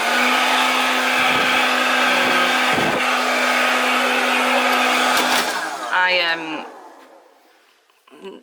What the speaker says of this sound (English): There is a hairdryer, so you can dry your hair.